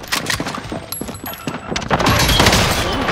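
Gunfire in a shooter video game: rapid bursts of shots and thuds crackle through the whole stretch, growing denser and louder toward the end with a steady wash of battle noise underneath.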